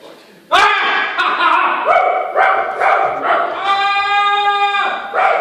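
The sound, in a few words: person imitating a barking dog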